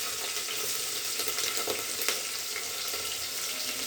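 Green chillies frying in hot oil in a pan give a steady close sizzle and crackle, with a few faint scrapes of stirring and no voices.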